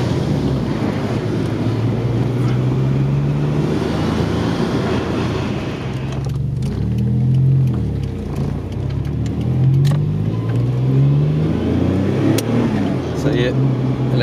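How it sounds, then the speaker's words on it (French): A Maserati Biturbo engine rumbles steadily on the road, its pitch rising and falling as it revs while accelerating, with wind buffeting the microphone throughout. "j'ai mis du gaz et on a tout de suite obtenu des performances très différentes"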